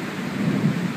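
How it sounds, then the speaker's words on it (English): A deep, rolling rumble of thunder with the steady hiss of heavy torrential rain around it, heard from a covered bridge. "Listen to that thunder."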